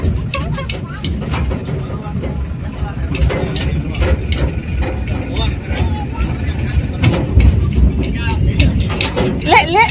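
A tractor engine rumbles low and steady while people ride in its trailer on a village farm. Several voices talk and laugh loudly over the drone.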